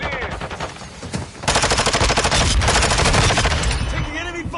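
Sustained automatic gunfire in a Call of Duty: Modern Warfare 2 Shoot House team deathmatch, a dense rapid burst that kicks in after a quieter opening and stays loud and close, with game voice callouts faint at the edges.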